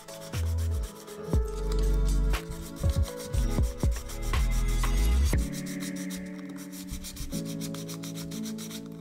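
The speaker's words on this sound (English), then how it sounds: "I'm just going to give this some sanding around the edges" Steady rubbing and rasping as the edge of a model part is sanded by hand, in short repeated strokes, close up, with a few knocks and handling noises between passes.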